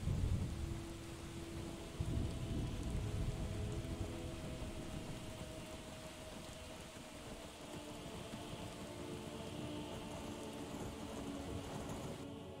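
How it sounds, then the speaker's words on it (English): Steady rain falls in the Skyrim game world, a continuous broadband hiss of close, even downpour with a low rumble beneath it, no voices present. "Fortunately, it's still raining out here."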